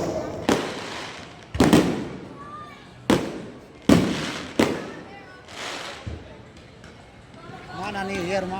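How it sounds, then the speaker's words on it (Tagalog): Outdoor fireworks burst at a New Year-style celebration in Manila, a series of loud, sharp booms spaced about a second apart, echoing over crowd noise while people talk nearby. "nanood kami dito ng paputok"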